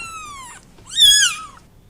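A kitten meows twice, a high thin cry that falls in pitch followed by a louder, wavering second call, close and clear with no other sound.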